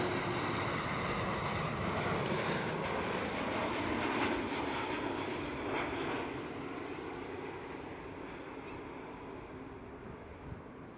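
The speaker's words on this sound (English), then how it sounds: "KLM City Hopper E195 E2." KLM Cityhopper Embraer E195-E2 jet landing at Schiphol Amsterdam, a broad engine roar that swells then slowly fades as the aircraft passes and touches down, distant and steady with no voices.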